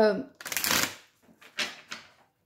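Oracle cards shuffled and drawn during a reading, a close riffling burst followed by two shorter soft card slides, right after a brief spoken voice.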